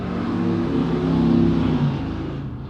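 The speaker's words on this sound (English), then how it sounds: "Those motorcycles are that loud and all my windows are closed" Loud engine roar of motorcycles passing outside, heard through closed windows, a steady rumbling drone that swells and fades over a few seconds.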